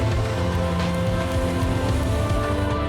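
Steady rain pours down on an Ironman triathlon course in the Philippines during the bike leg, a dense continuous hiss of drops hitting the surface, loud and unbroken with no voices.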